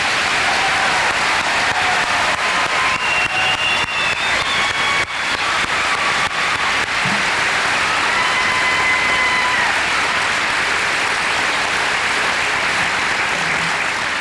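A large graduation audience at the 2002 SGR-II ceremony claps steadily for honor students, a long, loud, unbroken roar of applause with a few whistles rising above the clapping.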